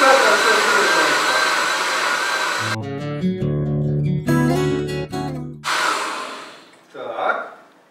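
An electric mixer is switched on and runs close by with a steady whirring hum, then cuts off abruptly. Short bursts of music and a brief breathy sound follow.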